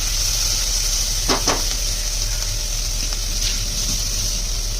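Onion frying in a pan during home cooking of a dry bean-pod vegetable dish, giving a steady close sizzle throughout with a couple of brief scraping stirs partway through.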